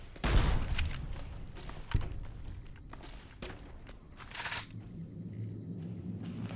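Enemy gunfire in Fallout: New Vegas, a burst of sharp cracks at the start followed by scattered shots and a rattling volley, over a low rumbling game backdrop.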